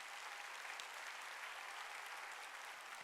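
A church congregation at a Sunday service claps in a dense, steady round of applause that lasts a few seconds at moderate volume, heard without any voices.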